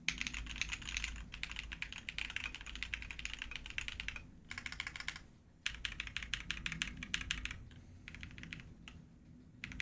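Steady typing on a GMMK Pro mechanical keyboard with Jade Blossom switches on the F keys, a dense run of close clacking keystrokes with two brief pauses, no voices.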